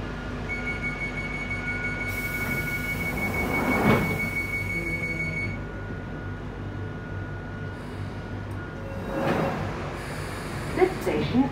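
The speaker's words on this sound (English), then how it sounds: "This is a Northern Line train via Charing Cross, terminating at Battersea Power Station." A London Underground Northern Line train runs with a continuous low rumble and rising roar, wheel noise swelling twice, while a recorded announcement plays over it.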